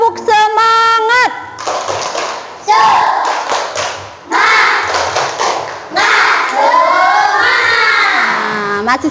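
A school class does a rhythmic group clap, the tepuk semangat: bursts of loud, close clapping in patterned beats, mixed with children's voices chanting and shouting along throughout.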